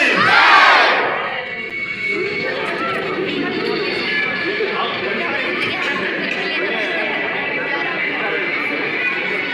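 Crowd of schoolchildren shouting a loud chant at a tenth-grade farewell ceremony at Mother Teresa Academy school, a burst of massed voices at the start settling into steady noisy cheering and chatter throughout.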